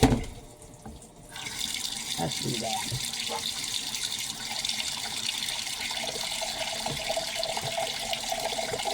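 Water runs steadily from a kitchen tap into a pot, a continuous broadband rush that starts abruptly after a second and holds for several seconds, with a brief spoken remark and some clatter near the start.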